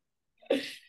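A single sharp sneeze lands close to the mic, a short breathy intake and then an abrupt burst, with silence before and after.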